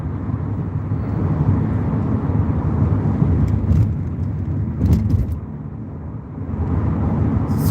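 A car drives through city streets on the way to a conference in Irvine, a steady close engine and road rumble from inside the cabin, with a brief clicking sound midway and a slight dip near the end.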